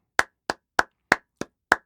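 Six sharp hand claps picked up by a Nearity Mempod Pro 2S headset microphone, evenly spaced about a third of a second apart, each crisp and close with a short decay and silence between.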